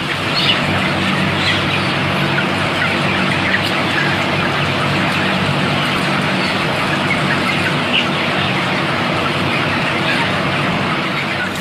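Broiler chickens crowded in a rearing shed, a steady loud mass of clucking and chatter from many birds, with a constant ventilation-like hum underneath.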